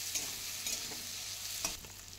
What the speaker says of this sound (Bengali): আলুগুলোকে খুব বেশি টাইম নিয়ে ভাজবো